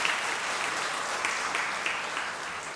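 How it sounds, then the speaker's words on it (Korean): A church congregation claps during a service to welcome visiting guests, with dense, steady applause filling the room for a few seconds before tapering slightly at the end. "우리 박수로 환영해 주시기 바랍니다"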